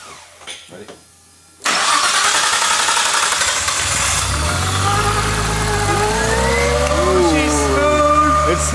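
Nissan RB26DETT Neo engine swapped into an R34 Skyline cranks and fires on its first start, then settles into a loud, steady idle with rising revs, while people talk nearby.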